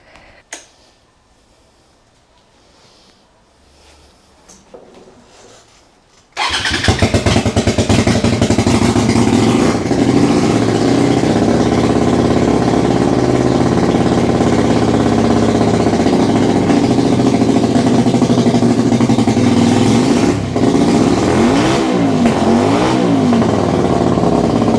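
A Honda VL250 bobber with a rejetted Mikuni BS26mm carburettor and 48mm velocity stack starts after several seconds of quiet, then runs loud and steady close by, with a slight rev change near the end.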